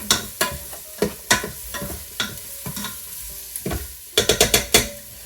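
Minced garlic cooking in a pan for chili, with a spoon stirring it: a close, steady sizzle punctuated by repeated sharp scraping clicks, and a quick burst of stirring strokes near the end.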